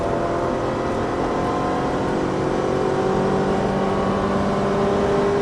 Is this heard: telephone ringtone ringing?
no